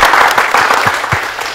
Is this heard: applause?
yes